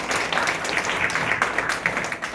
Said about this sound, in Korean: 다시 한번 뜨거운 박수로 응원해 주시기 바랍니다